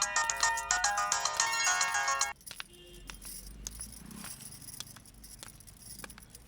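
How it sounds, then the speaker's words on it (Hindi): A loud electronic phone ringtone plays a repeating melody for about two seconds, then cuts off, leaving quiet rustling and faint clicks. "ये किसका फोन होगा ये?"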